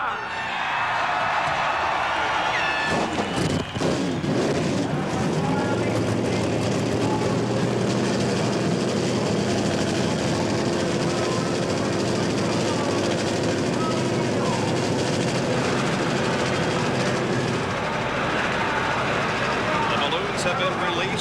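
NASCAR stock car engines at the 1992 Hooters 500 start and rev together into a loud, sustained roar that fills the track and builds over the first few seconds. A crowd is present, and a voice can be heard faintly.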